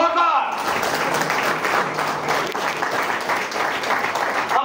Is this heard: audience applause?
yes